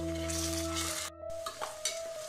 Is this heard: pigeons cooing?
no